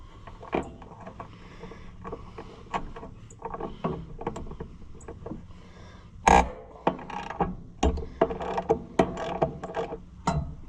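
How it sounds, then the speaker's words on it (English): Metal clinks, ratcheting clicks and wrench taps come from loosening a bolt on the bracket of an Oliver HG-68 crawler, with an irregular series of close, sharp knocks and one louder clank partway through. "Let's see if we can take loose one more bolt"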